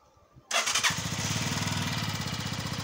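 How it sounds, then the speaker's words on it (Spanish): Brief quiet, then a Keeway Superlight 125 motorcycle engine cranks and fires up abruptly, settling at once into a steady, throbbing idle close by. "vamos a probar el funcionamiento del motor, vamos a arrancarla,"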